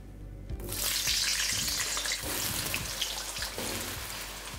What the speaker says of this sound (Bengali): এরপর যখনই দেখবেন তেলটা খুব ভালোভাবে গরম হয়ে গেছে, তখন এখানে কেটে রাখা আলুগুলোকে দিয়ে দিন